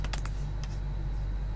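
Brief keystrokes on a computer keyboard while entering a project name, a few quick clicks near the start and one more shortly after, over a steady low hum with no talk.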